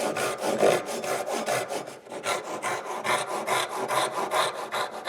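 A Japanese ryoba pull saw cuts a wooden tenon toward its shoulder line, giving steady rhythmic rasping strokes, close and loud, about two strokes per second with a brief pause near the middle.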